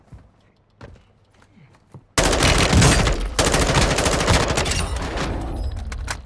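Sustained automatic gunfire in Call of Duty Warzone II bursts in loudly after about two seconds of near-quiet with a faint thump, then rattles on densely and continuously to the end.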